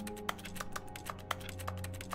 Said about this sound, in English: I want to press X to use like a keyboard sound.